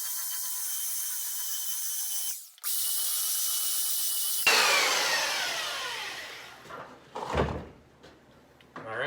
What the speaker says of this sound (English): I'll just quickly sand those edges off.